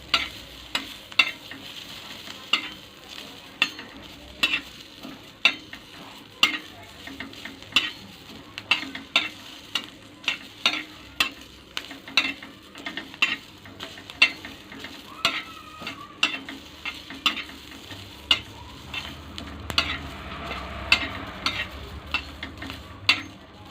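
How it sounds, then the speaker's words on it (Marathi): Mung husks, peanuts, garlic and green chillies dry-roasting in a pan, a soft steady sizzle punctuated by regular sharp scraping and stirring knocks from a spatula; no voices. "मुगाची सोले, शेंगदाणे, लसूण, हिरवी मिरची भाजून घ्यायची."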